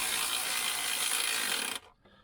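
An electric ratchet winds bolts into the exhaust of a VW Polo 9N during a catalytic converter replacement, giving a loud, close, steady whir that runs for under two seconds and stops abruptly, followed by faint handling noise.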